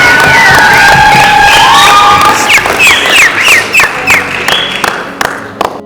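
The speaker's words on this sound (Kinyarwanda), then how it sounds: "Tuvuga amashyi menshi cyane." Wedding guests at a Rwandan wedding celebration cheer and clap as a lively crowd, with high ululating shouts rising over steady applause that fades slightly toward the end.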